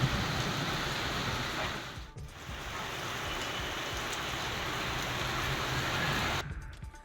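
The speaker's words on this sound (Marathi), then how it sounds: "अचानक वादळी वाऱ्यासह जोरदार पाऊस झाला." Heavy unseasonal rain driven by stormy wind in Yeola pours down in a dense, steady roar with a brief dip partway through before the downpour resumes and then thins near the end.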